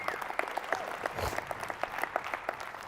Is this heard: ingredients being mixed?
no